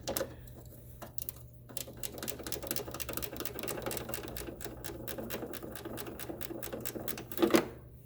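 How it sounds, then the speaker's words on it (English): A 10 mm ratchet wrench turns a bolt during a battery replacement on a 2008 Pontiac Montana, giving a steady run of rapid, light clicks heard close by and fairly quiet throughout. "let's get a 10 mil ratchet wrench"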